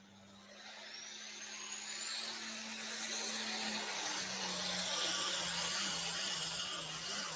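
Distant roaring engine of the Born Loser Light pulling tractor on its run at a tractor pull, a broad rushing drone that slowly swells louder, with a faint whine rising overhead.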